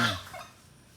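Chickens on a rambutan farm let out a brief, close gobbling cluck that fades quickly into quiet.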